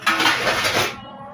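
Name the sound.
dishes and utensils clinking in kitchen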